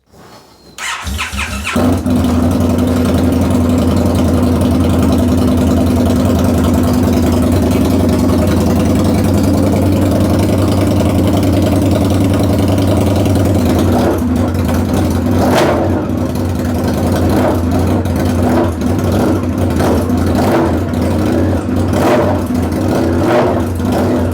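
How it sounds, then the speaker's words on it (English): An Indian FTR motorcycle with straight pipe headers starts up and settles into a loud, steady, close rumble, with a few throttle blips near the end. "I'm going to fire it up and show you how insane this sounds with straight headers."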